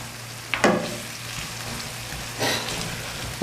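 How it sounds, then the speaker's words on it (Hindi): A spice masala for aloo baingan of potatoes and eggplant sizzles and fries steadily in a pan while being stirred, with two louder bursts of scraping and sizzle over a constant crackling hiss, close by and with no talking. "अपने मसाले को 5 से 10 मिनट के लिए अच्छी तरह भून लूँगा"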